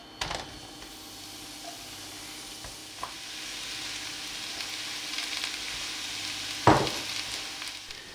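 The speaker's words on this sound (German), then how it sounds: "dann in der Pfanne anbraten, sodass sie kräftig Wasser verlieren" Sliced button mushrooms sizzle and fry in a hot pan, a steady close hiss with occasional scraping stirs and a louder clatter near the end.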